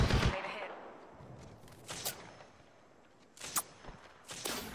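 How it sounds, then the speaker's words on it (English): Gunfire on the Mirage map of a shooter video game: a loud burst of shots at the start, then separate sharp volleys and single cracks, some nearer and some more distant, over a low background rumble. "Getting shot at."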